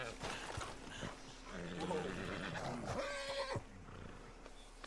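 A horse whinnies in Red Dead Redemption 2, a flaxen chestnut or leopard blanket horse, with a wavering neigh in the middle followed by a shorter snort, set against quiet game ambience.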